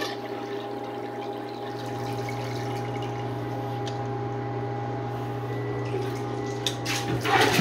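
A miniature 1970s Briggs Abingdon toilet flushes with a steady rushing of water and a low constant hum, with a gurgle and splash rising near the end.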